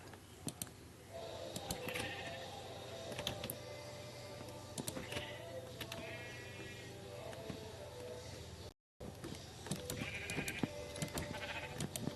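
Sheep bleating in the Minecraft video game, a few short wavering bleats scattered over a steady low game ambience with faint clicks, moderately quiet and with no talk.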